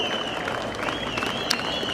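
A crowd at a Bahrain horse-racing club applauds a racehorse, sustained clapping with a thin whistle running over it, moderately close and without clear speech.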